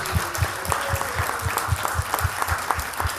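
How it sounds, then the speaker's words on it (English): A small group claps in a fairly regular rhythm, the sharp hand claps close and steady for a few seconds with no talking. "Can we give Betty a big round of applause, please, for all of her hard work"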